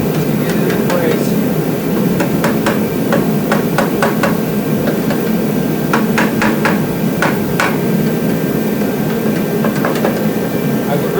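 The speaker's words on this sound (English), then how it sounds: "Light taps to get it in place." Light hammer taps on an Onan 4000-watt RV generator seat a part during a crankcase oil leak repair, sharp metallic clicks in irregular bursts and clusters over a constant loud droning background.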